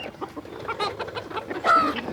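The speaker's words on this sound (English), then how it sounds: "For those of you unfamiliar or just in love with silky roosters, this is them up close." Close-up Silkie rooster clucking in short, irregular bursts, with one louder squawk near the end; no talking.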